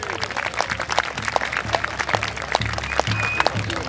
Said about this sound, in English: Give Brett another round of applause.